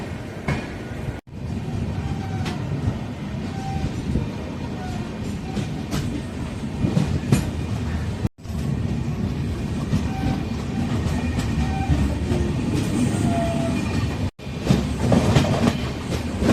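An express train departing Arakkonam toward Chennai rumbles along with steady clickety-clack of wheels on rail joints, heard from inside the coach, with brief dropouts and faint background voices.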